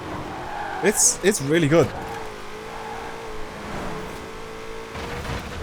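A 2020 Shelby GT500 in Forza Horizon 4 holds a steady, moderate engine drone that starts after a short burst of speech and carries on evenly to the end.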